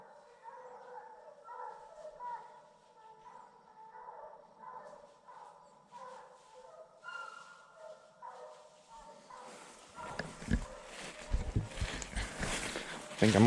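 Distant bear-hunting hounds bay steadily at a treed bear in overlapping voices, then louder rustling and brush noise close by takes over near the end.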